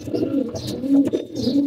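Pigeons in a breeding loft coo close by, several soft throaty rolling calls overlapping in a loose rhythm, with faint chirps above them and no talking.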